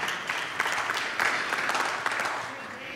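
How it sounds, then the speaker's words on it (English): A church congregation gives a weak, scattered round of clapping, thin and brief, filling the room at moderate loudness. "That was like a weak clap"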